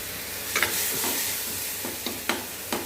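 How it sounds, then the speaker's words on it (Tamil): Onions and tomatoes sauté in a hot pan, a steady close sizzle broken by several scraping stirs, with no voices. "வெங்காயம் தக்காளி சேர்ந்தாப்போல் வதங்கி வரட்டும்"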